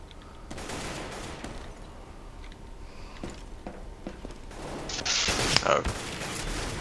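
Burst fire from a gun in Counter-Strike: Global Offensive comes as scattered short clusters of sharp shots with mechanical clicks, growing louder and denser in the last couple of seconds.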